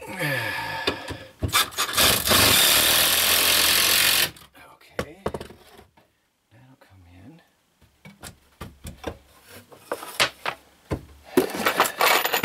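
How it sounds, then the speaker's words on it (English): A screw is driven into a frame while installing shelving under a tiny house kitchen counter. A close, loud whirring burst lasts about three seconds, followed by scattered scraping and handling noises. "I'm just putting a screw in to this frame."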